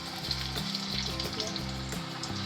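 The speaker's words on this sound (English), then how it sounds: "We'll cook the onion and potato fritters by frying them in sunflower oil." Onion and potato fritters fry in sunflower oil at a cooking class in Shimla, with a steady, close crackling sizzle and soft rhythmic stirring or scraping sounds. No one speaks.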